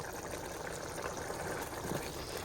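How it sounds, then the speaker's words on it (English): Dal with a little added water boils in a pot on the stove, a soft continuous bubbling and hiss, faint and steady with no talking. "now I am just giving it a good boil"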